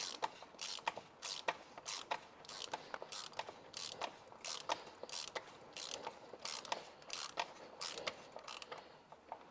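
Close, quiet ratcheting clicks in a fast regular rhythm as an oil filter housing is screwed back onto a supercharged 5.0 Range Rover L322 engine, a run of repeated turns with no talking.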